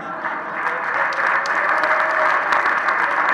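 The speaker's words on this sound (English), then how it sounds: "so it's a good way to get claps, actually." An audience applauds at a student organization event in Chennai, a steady dense wash of clapping that holds for a few seconds, fairly loud and with no talk over it.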